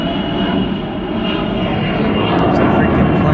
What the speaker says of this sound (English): There's a freaking plane flying overhead.